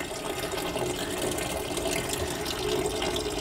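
Water flows steadily from a polytunnel gutter water system on an allotment, a continuous close splashing and trickling stream with no voices.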